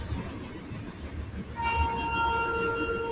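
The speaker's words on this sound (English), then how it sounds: "So there goes the train, freight train." A long freight train with many cars passes close by, a loud steady rumble swelling after a quieter opening, with faint tonal whines from the wheels and rails above it.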